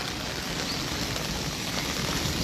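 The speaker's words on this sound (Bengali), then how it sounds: "ভারী বৃষ্টি হচ্ছিল কিন্তু এখন বৃষ্টিটা একটু হলেও কমেছে" Rain easing off after a heavy downpour in Arambagh, a soft, even wash of falling drops heard from nearby with no voices.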